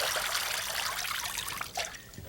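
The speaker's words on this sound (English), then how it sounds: "drain the water out of the colander." Rinse water drains from rice in a colander as a steady, close trickling and splashing stream, with a few brighter gurgles near the end.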